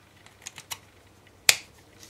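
Vape atomizer coil wire being trimmed, a few light clicks followed by one sharp, loud snip, close up with no talk.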